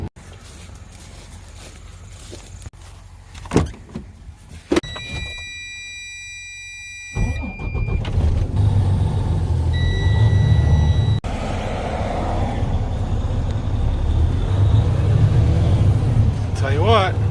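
An auto-shift semi-truck hauling grain on a farm drives with a steady, loud engine rumble heard from inside the cab. Several high electronic beeps come first, then continuous road and engine noise runs to the end.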